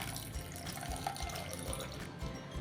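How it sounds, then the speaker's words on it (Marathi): Water is poured from a cup into a bowl of sabja seeds, giving a faint steady splashing trickle over a few seconds. "ह्यामध्ये आपल्याला जवळजवळ एक कप पाणी घालायचं आहे"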